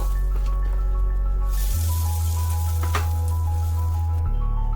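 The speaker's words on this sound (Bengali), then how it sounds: "এরপর গ্যাসে একটা কড়াই গরম করে তাতে আমরা কিছুটা বাটারকে এইভাবে ব্রাশ করে দেব।" Bread pizza frying in butter in a hot kadai on a gas flame gives a steady close sizzle over a loud low hum, with a brief hiss burst midway and no talking.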